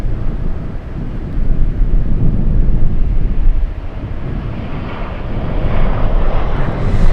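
A FedEx airplane flies over Anchorage airport, its broad, steady roar low and continuous with gusting wind buffeting the microphone throughout.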